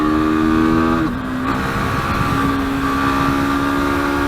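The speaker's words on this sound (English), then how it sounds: "Let me open more throttle." A car engine revs hard as the throttle opens, a loud sustained tone that dips briefly around the one-second mark as it shifts, then climbs and holds steady, close and alone with no talk.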